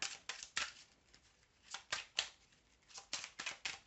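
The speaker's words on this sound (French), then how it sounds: "Allez, je remélange." Playing cards are reshuffled close up, a quiet series of quick riffling bursts and soft flicks in an irregular rhythm, with no talking.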